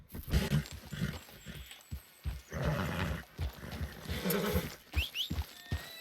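A horse in the video game Red Dead neighs and snorts in short bursts, moderately loud and close, with breathy whinnies separated by brief pauses and no talk.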